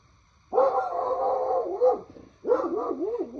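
A dog nearby gives two drawn-out, wavering howling barks, loud and alone, with a pause between them.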